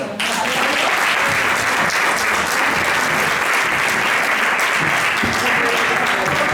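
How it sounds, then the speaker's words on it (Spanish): Dense, steady audience applause fills the room at a Spanish PSOE political gathering, starting abruptly and holding loud and continuous to the end with no pause. "Un fuerte aplauso."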